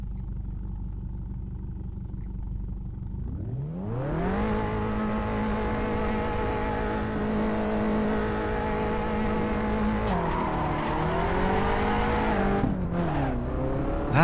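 A race car in the Assetto Corsa driving game revs loudly off the line in a manual-transmission drag race, its engine note climbing steadily with a quick gear shift and a final surge, loud and alone.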